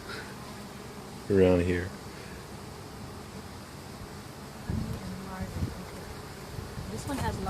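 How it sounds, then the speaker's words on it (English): Honey bees hum around a busy, productive backyard hive in a steady, soft buzz under a person's talking nearby. "this one is much more productive. So there's a lot more bees"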